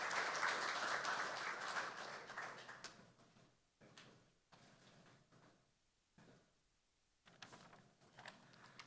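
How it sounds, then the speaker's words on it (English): Applause from an audience at a government event revealing designs for a new hospital, a burst of clapping at the start that quickly fades into scattered, faint claps and quiet room sounds. "Let's give him a round of applause, please."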